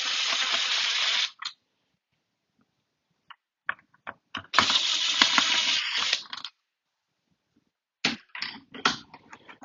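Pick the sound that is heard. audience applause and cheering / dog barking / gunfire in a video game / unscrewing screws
unscrewing screws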